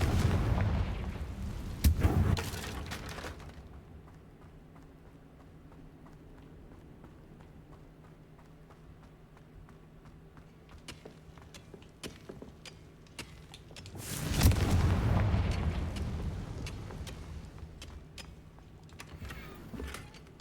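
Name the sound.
Confringo fire spell blasts in Hogwarts Legacy video game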